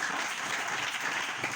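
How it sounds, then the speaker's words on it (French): A congregation applauds loudly at a church service, steady, dense clapping from many hands filling the space without a break, with no voices over it. "Acclamez très fort"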